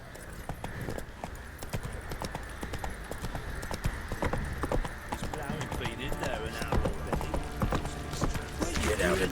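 Horse hooves clip-clop in a steady galloping rhythm in The Witcher 3 video game, fairly close and continuous, with game voices and music running over them.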